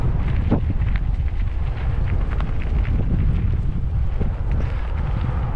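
Cold wind gusts steadily across an open, swampy railway grade, a broad rumbling rush with occasional buffeting that stays loud and continuous throughout, with no voices.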